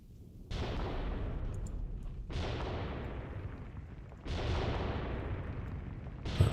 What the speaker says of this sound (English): Yeah, that can't be my artillery.